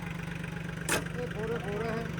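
A steady, low tractor engine, a Swaraj with a Japanese engine, idles throughout with a brief rattly burst near the start, and faint voices can be heard over the running motor.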